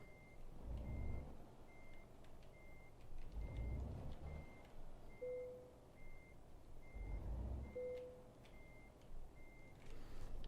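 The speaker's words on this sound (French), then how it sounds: "On va reculer à peine pour se mettre correctement." Truck reversing alarm in Euro Truck Simulator, a steady series of evenly spaced electronic beeps over a low diesel engine rumble, with a couple of brief brake hisses.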